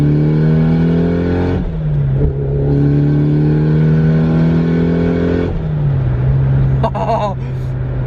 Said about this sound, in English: The screamer sounds different because obviously it's not externally gated, it's internally gated.